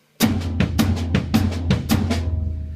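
Drum on-beat pattern moving across low tom, snare and bass drum, about eight quick evenly spaced hits in a steady rolling rhythm, close and punchy with no talk.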